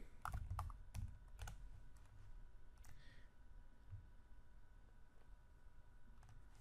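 Keys click and patter on a computer keyboard while a letter is typed in Microsoft Word 2013, bursts of quick strokes early on thinning to sparse, scattered taps over a low room hum; no talking.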